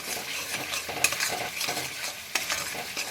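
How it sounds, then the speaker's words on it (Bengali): Spice paste with Kashmiri red chili powder fries in oil in a pan for a fish curry, a spoon stirring and scraping in uneven strokes with a few sharp clinks over a bright close sizzle, with no voices. "মশলাটা কষানো হয়ে গেছে তেল ভাজতে শুরু করে দিয়েছে"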